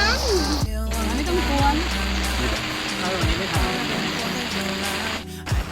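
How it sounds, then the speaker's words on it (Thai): Heavy rain pours steadily on a campsite, a dense continuous hiss close by with someone talking over it. "ฝนยังตกไม่หยุดเลยค่ะทุกคน"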